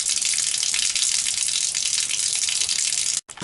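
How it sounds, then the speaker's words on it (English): Water gushes out of an RV fresh water tank through an opened drain valve, a loud, continuous hissing rush that cuts out abruptly for a moment near the end. "Open my drain valve and get this thing dumping."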